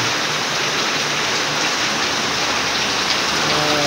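Steady, heavy rain pours down outside a classroom in a continuous dense hiss, loud and close, with no voices.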